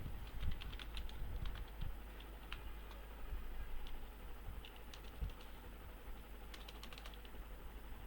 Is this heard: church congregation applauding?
no